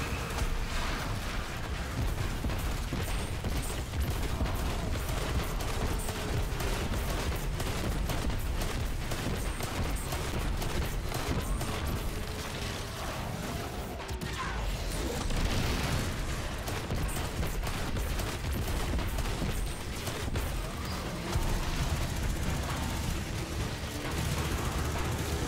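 Rapid, dense gunfire from Witherhorde and Recluse weapons in a shooter video game, continuous bursts and blasts layered over one another at steady high loudness for the whole stretch, with no talking.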